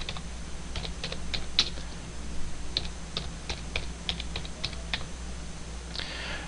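Fingers tap out a quick, uneven run of clicks on a computer keyboard, close and clear, with a faint steady hum underneath and no voices.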